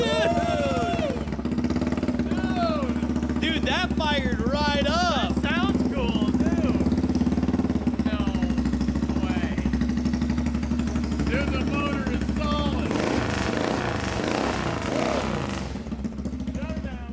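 Revived abandoned ATV engine running loudly and steadily close by after firing up, with excited voices talking and shouting over the rough, continuous engine noise.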